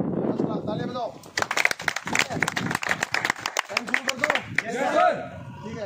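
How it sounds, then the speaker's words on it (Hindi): A group of fire-safety trainees clapping together at an outdoor practical drill, a burst of sharp hand claps lasting a few seconds, with people talking before and after the applause. "ताली बजाओ"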